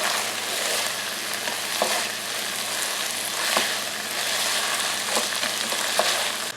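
Browning meat sizzles and fries steadily in a pan for chili, with chopped onions just added and occasional louder crackles and stirring clatter, close up with no talking.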